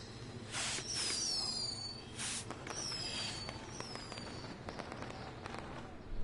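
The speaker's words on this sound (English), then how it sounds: "we'll get to see some cool fireworks" Fireworks going off in the WWE 2K20 video game, with a few bright whistling launches followed by crackling, sizzling bursts, alone and at moderate loudness.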